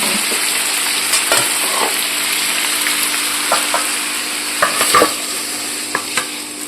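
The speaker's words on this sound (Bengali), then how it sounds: "আমার ভালো করেই ভাজা হয়ে গেছে এবার নামিয়ে নেব" Chicken being stir-fried in a pan produces a loud, steady sizzle, broken by scraping stirs and a few sharp clatters, with no talking.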